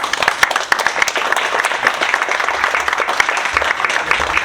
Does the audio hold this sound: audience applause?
yes